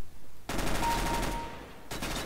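Rapid automatic gunfire from the CS:GO deathmatch video game, a PP-Bizon submachine gun, rattles in a dense, loud burst for well over a second, then breaks off and starts again.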